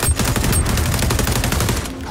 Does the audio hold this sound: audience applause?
no